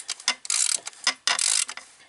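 A ratchet wrench clicks in quick bursts, close and crisp, loosening the fuel bowl bolts on a 1996 Ford F250 Powerstroke diesel, with several separate runs of ratcheting and brief pauses between.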